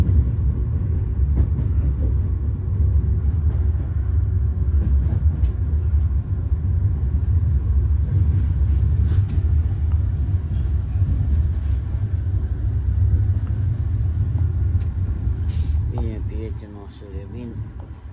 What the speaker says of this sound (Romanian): acum suntem în gară. Am ajuns în gară.